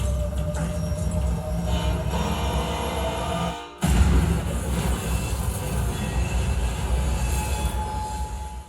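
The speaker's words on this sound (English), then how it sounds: "the subway train can be heard coming" A subway train in a film soundtrack rumbles closer with a steady roar and a rattle of rails, briefly dipping before the noise surges back, loud and continuous.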